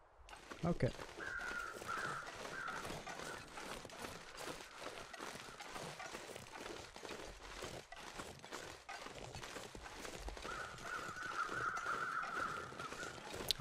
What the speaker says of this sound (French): Il y a des corbeaux ou pas?